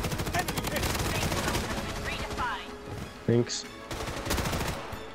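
Rapid bursts of gunfire in the online shooter BloodStrike, loud and continuous at first, then broken into shorter volleys with brief gaps, while a player speaks briefly.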